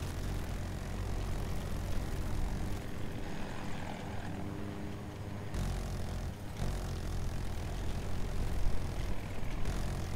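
A steady helicopter rotor drone with engine roar, fairly loud and continuous throughout, with no voices, from the video game Battlefield 2042.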